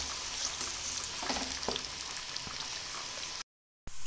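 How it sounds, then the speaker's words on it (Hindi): Onions frying in a pan until golden brown, giving a soft, steady sizzle with faint crackles and occasional stirring, alone and fairly quiet, cut by a brief silent gap near the end. "ये गोल्डन हो चुके हैं, गोल्ड ब्राउन हो चुके हैं ये हमारे प्याज"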